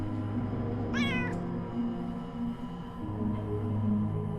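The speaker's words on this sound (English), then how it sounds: "Oh, it's a cat. Hello." A cat in the video game Underrail lets out a single clear rising meow over a steady low ambient game hum, with no talk.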